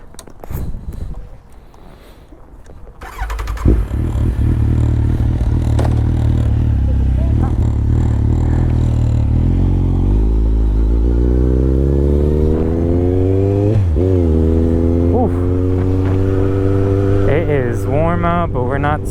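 A motorcycle in Miami idles near a quiet street, then starts and settles into a loud steady rumble with rising revs and sharp throttle blips toward the end.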